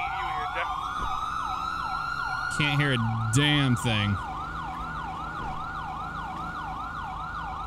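Police car sirens in the video game GTA 5 wail continuously through the whole stretch, with several overlapping siren tones, and a brief burst of a man's speech breaks in partway through.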